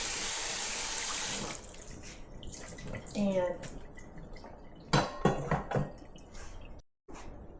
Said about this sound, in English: We're going to give it a quick rinse with some cold water.